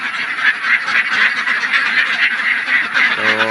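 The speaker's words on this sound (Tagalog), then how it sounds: "ganyan karami ating mga alagang itik mga kadakers" A flock of pet ducks quacks continuously and loudly at close range, a dense overlapping chorus with no talking.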